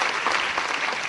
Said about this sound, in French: Applaudissements, s'il vous plaît, mesdames et messieurs.